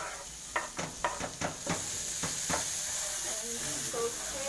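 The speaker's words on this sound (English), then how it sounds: "and saute the mixture." Green peppers sauté in a hot pan as a sandwich filling, a steady close sizzle and hiss running throughout, broken early by several soft knocks and scrapes of stirring.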